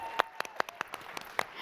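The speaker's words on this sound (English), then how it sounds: "Give yourselves a round of applause," An audience at a corporate sales conference claps in a sparse, scattered burst, with a handful of sharp individual claps spread out, fairly faint in a large room.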